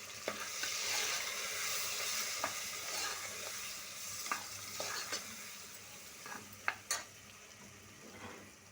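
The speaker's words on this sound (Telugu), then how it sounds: "కలపాలి బాగా" Sambar ingredients with salt sizzle in a pan while a spoon stirs, giving a continuous frying hiss broken by scattered metallic scrapes and clinks against the pan, close up and without talk.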